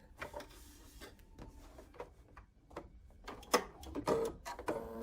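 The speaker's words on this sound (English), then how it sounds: "So I'm just going to sew them together very simply." A sewing machine stitching small quilt pieces together, with soft rapid ticking and clattering in short uneven bursts, faint and close, with occasional sharper knocks of fabric handling.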